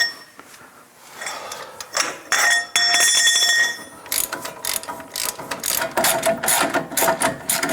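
Steady rapid ratchet clicking from a ratchet fitted with a length of pipe off a floor jack, cranking loose tight brake bolts on a 2010-2018 Toyota 4Runner, close and loud, with several bursts of clicks and no talk.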